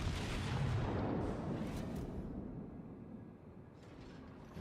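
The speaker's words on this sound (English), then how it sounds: "Both of those shots land directly on target." Naval gun shots in World of Warships: a heavy rumbling boom that fills the start and slowly fades into a low roaring tail, loud and continuous.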